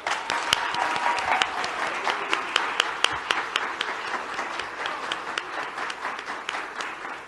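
A crowd applauds at the official launch of a Dominican beer, with dense, sustained clapping from a sizable audience continuing steadily and fading slightly toward the end.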